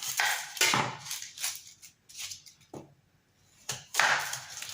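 A knife chops an onion on a board in a few separate bursts, the cuts short and crisp with gaps of quiet between them, close and fairly soft, with no talking.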